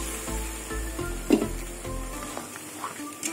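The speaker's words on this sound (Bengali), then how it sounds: "আবার মশলাটাকে কষিয়ে নেবো ভালো করে।" Spice paste with turmeric and chili powder sizzles and fries in a pan for a fish and taro curry, a steady crackle with a few stirring scrapes and knocks.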